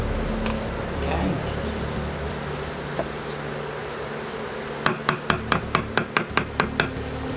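Honeybees buzz steadily as they fan their wings at the hive entrance, a continuous droning hum, with a brief run of sharp rapid clicks near the end.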